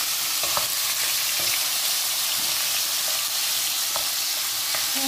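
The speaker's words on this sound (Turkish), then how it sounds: "Tavuklarımız böyle kavrulsun." Chicken pieces fry in a pan with a little oil, giving a steady, dense sizzle with occasional crackles and soft stirring clicks, close and constant with no talking.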